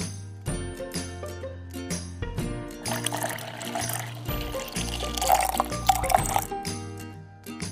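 Water pours in a steady splashing stream into a glass bottle, near and clear, with gurgling and rising fill sounds and a few pauses between pours.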